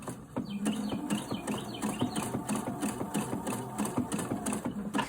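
Domestic sewing machine stitching embroidered tulle lace slowly, a steady close run of rapid needle clatter with a faint high whine over the motor throughout.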